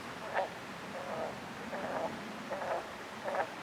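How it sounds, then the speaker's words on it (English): Faint bullfrog calls repeat about five times at a steady, slow rhythm over a soft background hiss, distant and low. "Hear that bullfrog?"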